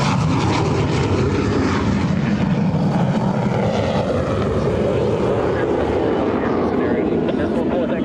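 Airplane making a low pass at the EAA AirVenture airshow: a loud, sustained propeller-engine roar that stays strong and steady throughout, close and continuous.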